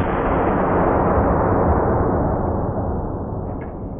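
A shotgun fires number 4 buckshot at a hand grenade, one loud booming blast that rings and decays slowly over several seconds with no voices.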